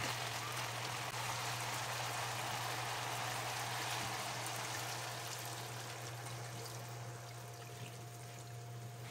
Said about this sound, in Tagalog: lagyan na natin ito ng sapat na tubig